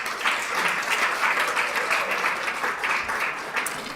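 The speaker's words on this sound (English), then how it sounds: "Let's all give one round of applause" An audience at a school governing board meeting's award ceremony claps continuously, a full, even wash of applause at steady volume throughout.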